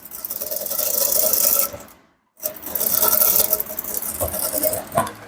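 Sewing machine stitching a male senator top, running close and loud in a steady whirring rattle. It stops briefly about two seconds in, then carries on stitching.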